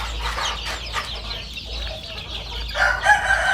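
Fighting roosters and chickens on a farm cluck and call, with a rooster crowing loudly near the end, close by over a quiet outdoor background.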